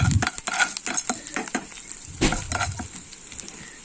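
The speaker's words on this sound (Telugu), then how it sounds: "ఆకుని యాడ్ చేసిన తర్వాత బాగా ఫ్రై చేసుకుని బాగా కలుపుకొని" Ponnaganti leaves being fried and stirred in a pan, with repeated scraping strokes over a steady close sizzle.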